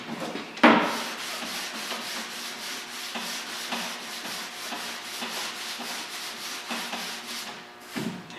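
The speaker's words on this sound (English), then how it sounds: "I'll keep sanding on it here" Block sanding on a 2008 GMC Sierra tailgate during repair, with a steady back-and-forth scraping rub close by, a sharp knock near the start and another bump at the end.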